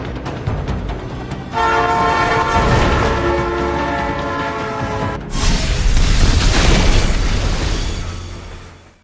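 A loud train horn blares over the rumble of a passing runaway train in the film Unstoppable, then the roar and clatter of the cars builds and fades.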